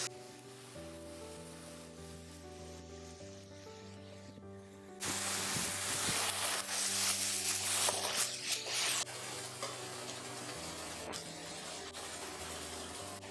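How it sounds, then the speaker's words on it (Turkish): Whole wild mushrooms go into a risotto in the pan. A quiet start gives way to a sudden loud, hissing sizzle midway, which then settles into a steadier, softer cooking noise. "Dağ mantarlarını iri iri sevdiğim için çok fazla küçültmeden risottomun içine atıyorum."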